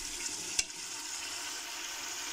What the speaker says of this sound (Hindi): अब इसमें मैं मटन डाल देती हूँ